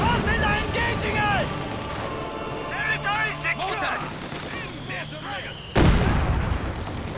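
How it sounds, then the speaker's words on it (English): In the Company of Heroes 2 game, a mortar strike explodes with a sharp, loud blast near the end, over ongoing battle noise and bursts of gunfire, while a commentator talks throughout. "nice mortar strike on the MD mortar crew, forces it back"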